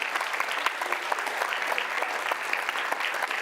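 A crowd at a social innovation pitching competition applauds the mentors, a close, lively burst of many hands clapping with crisp individual claps standing out and no pause.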